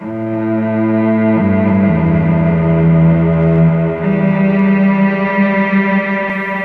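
Rich, sustained Mellotron cello notes move through a slow low melody, bathed in added spacious reverb, loud and unbroken throughout.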